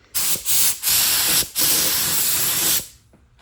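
Spray gun applying paint to the back side of a 1971 Plymouth GTX body panel: four loud bursts of hissing spray, the last one long, separated by short pauses, close and alone.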